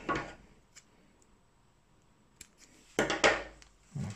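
Scissors snip fishing line while a clipped rig is tied, giving a few short, close clicks and cuts separated by quiet pauses, with a cluster of sharp snips near the end.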